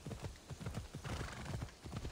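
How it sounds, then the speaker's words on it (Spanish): A horse gallops in Assassin's Creed Odyssey, with rapid, rhythmic clip-clop hoofbeats thudding close and steady throughout. "He tenido caballos peores."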